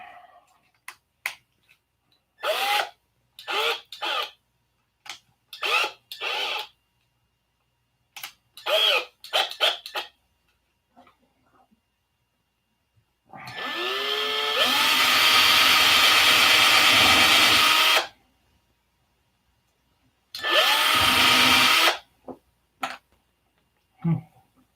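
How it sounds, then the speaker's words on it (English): A cordless power drill whirs in short bursts with pauses between, then one long sustained run of several seconds and another burst near the end, close and loud in a quiet workshop. "Put this bad boy back in the drill"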